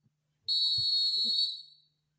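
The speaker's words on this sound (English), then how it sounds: "Sassy whistle as always." A single shrill whistle blast, about a second long, high and piercing, with a few faint knocks around it.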